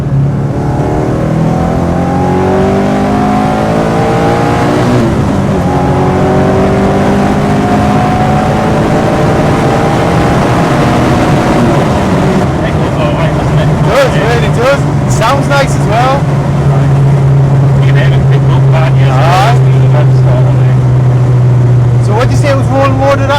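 A 1973 BMW 2002 tii with its engine revved well past stock limits while driven hard, loud in-cabin engine note rising and falling through gears, with people talking over the drone.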